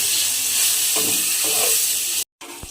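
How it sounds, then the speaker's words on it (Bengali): Potatoes fry in a pan with salt and turmeric, giving a constant close sizzle and hiss with soft stirring scrapes. The sound drops out briefly near the end. "আলুগুলোকেও কিন্তু আমি একটু লাল করে ভেজে নিতে হবে"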